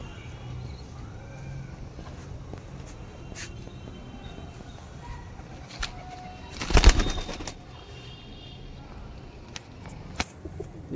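Pigeons coo softly in low rolling phrases amid background traffic hum, interrupted midway by a short burst of loud flapping or rustling, then quieter cooing resumes.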